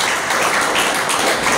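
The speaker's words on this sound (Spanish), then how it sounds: "Denle otro aplauso a Él." Congregation applause at a church service, a dense steady wash of many hands clapping throughout, loud and continuous with no break.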